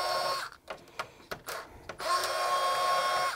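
Small Bosch electric screwdriver with a size 8 Torx bit backing screws out of a PS5 console, a steady high whine interrupted by short stops and brief buzzes before running continuously again, close up.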